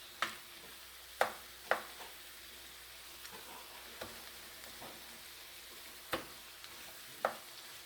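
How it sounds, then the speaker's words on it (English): Sausage cooking in a pan for pasta with broccoli rabe, a steady low sizzle with several sharp clicks and scrapes of a utensil against the pan spaced through the scene, fairly quiet and with no talking. "So the sausage is still cooking"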